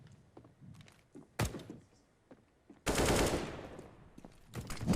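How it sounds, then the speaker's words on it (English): MP9 submachine gun fire in Counter-Strike during a professional ESL Pro League match, heard as short sharp bursts, one at mid-clip and a longer loud burst later, with quieter game noises in between. "Nitro connects with his MP9"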